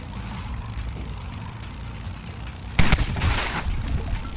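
A single loud AK-47 gunfire burst in the video game Road Redemption erupts abruptly over a steady noisy game background, then trails off into rumbling sound.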